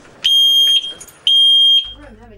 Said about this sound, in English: Without it, it's very likely I wouldn't hear the smoke alarm.